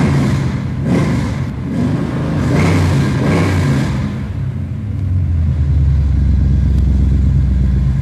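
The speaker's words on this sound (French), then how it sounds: "Entre le ronronnement sourd et la réponse à la pédale, là, on sent que c'est vraiment un moteur qui a des watts." A car engine revs hard with sharp throttle response, bursts of rising roar in the first half settling into a loud, deep steady rumble close by, no talk over it.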